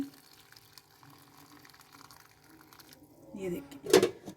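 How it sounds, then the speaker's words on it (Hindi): Chicken yakhni broth runs through a strainer, a quiet trickle that swells into a brief louder splashing pour near the end, with a voice nearby. "हमने यखनी को स्टेन किया है।"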